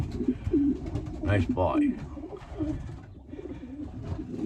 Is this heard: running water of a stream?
no